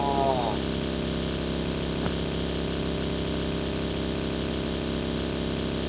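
A video game vehicle engine idles and drones steadily at close range for the whole stretch, with a brief chirp near the start and a faint click partway through.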